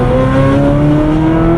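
A Ferrari F430 fitted with an iPE exhaust revs hard on a highway, a loud, steady, high-pitched engine wail held close and continuous with no talking over it.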